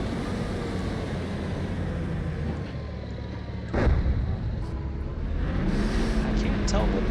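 Artillery barrage in the tank combat game GHPC, a dense low rumbling roar with a sharp blast near the middle and continued booming over a steady engine drone.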